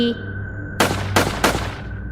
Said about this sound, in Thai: เสียงปืนดังสนั่น